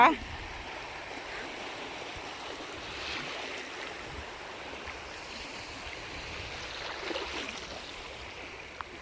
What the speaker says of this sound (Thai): นี่ค่ะทะเล น้ำทะเลกำลังหนุนขึ้น ไปเรื่อยๆ